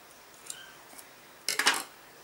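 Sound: scissors cutting paper cupcake liners

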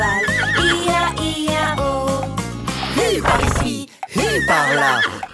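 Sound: horse neighing in a children's song

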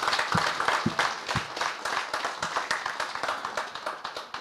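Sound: audience applauding police officers and staff

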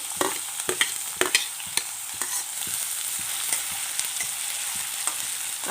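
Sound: onion added and stirred into hot tempering

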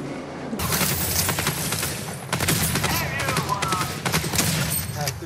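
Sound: shotgun firing in the video game Fortnite

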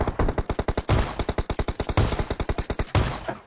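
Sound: shotgun gunfire in video game PUBG Mobile

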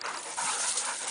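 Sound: beagle dog panting

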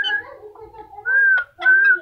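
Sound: pet parrot whistling

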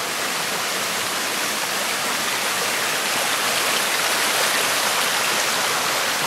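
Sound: waterfall rushing water in park

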